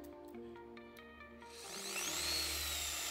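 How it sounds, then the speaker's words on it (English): A Liquid Element orbital polisher, freshly re-greased, runs at its lowest speed setting, a steady low motor whir that swells into a brighter, louder whine partway through, heard close and alone. "So this is the polisher."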